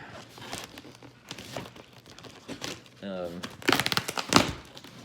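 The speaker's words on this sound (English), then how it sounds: "Delicately open it right now with these cool scissors." Crinkling and snipping sounds of a box holding a Purple pillow being cut open with scissors, close by, with a person talking over much of it.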